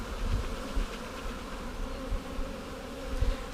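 A honeybee swarm tipped from a bucket into a good-sized hive makes a steady, dense buzzing hum, close and continuous, with no voices.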